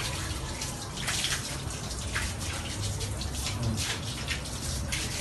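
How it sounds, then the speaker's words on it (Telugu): A water tap runs into a bathtub, a steady faint splashing and gurgling stream with small drips, heard at a distance with indistinct household sounds behind it. "ఆ ట్యాప్ వదులు నాన్న"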